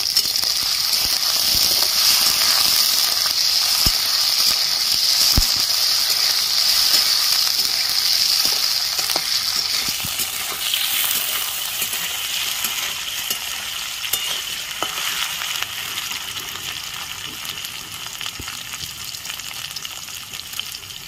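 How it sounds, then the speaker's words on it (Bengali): Cut potatoes and slit green chillies fry in hot oil in a pan, a loud, continuous sizzle with occasional scraping clicks as they are stirred, steady throughout with no voices. "আলুগুলো একটু লাল করে ভেজে নেব"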